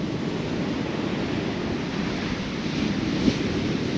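Ocean waves break and wash up the shore on Nazaré's beach, a steady, loud roar of surf, blended with wind rumbling against the microphone, with no voices.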